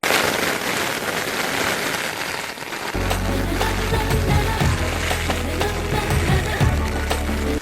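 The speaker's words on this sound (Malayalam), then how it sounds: "പറഞ്ഞ പോലെ തന്നെ മഴ വന്നിരിക്കുകയാണ്." A dense, even hiss of falling rain, joined partway through by a steady musical hum beneath it.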